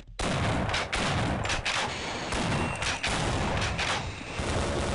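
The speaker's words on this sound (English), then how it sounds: "They're shooting at me." Half-Life gameplay with soldiers shooting: dense, continuous bursts of rapid gunfire with heavy booming shots layered over a constant roar of combat noise, loud throughout with no pauses.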